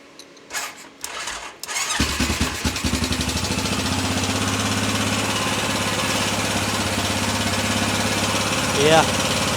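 A Honda Rincon ATV engine cranks and catches after a few quiet knocks, then runs at a steady, fairly loud idle as it warms up, with a brief rise in revs near the end.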